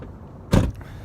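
A truck door thumps open in one short, solid burst, the only sound standing out from a quiet background.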